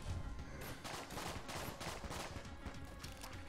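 Rapid gunfire from a Colt pistol in the dungeon-crawler shooter game Enter the Gungeon, a dense run of overlapping shots with no pauses, sitting at a moderate, steady level throughout.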